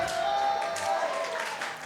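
Wrestling crowd at a WrestleARTS Unleashed show cheering and applauding in a steady wash of noise, loud and sustained, with a faint voice somewhere in the mix.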